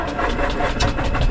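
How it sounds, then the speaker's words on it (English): Cessna 150 light aircraft engine starting on the ground at an airfield, a loud close rumble with rapid pulsing beats as the starter cranks and the engine catches. "Ignition switch, engage starter."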